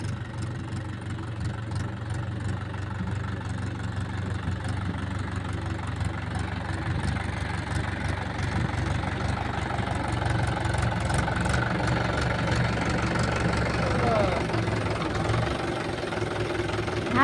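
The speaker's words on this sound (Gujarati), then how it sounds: "આપણે પાછું ટ્રેક્ટર ચાલુ કરી દીધું હે" A tractor engine runs steadily nearby, a low throbbing, knocking idle that continues without a break.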